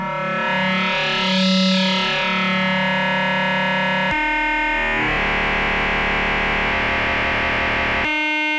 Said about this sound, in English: the wavefolder creates this cross-modding relationship between the two oscillators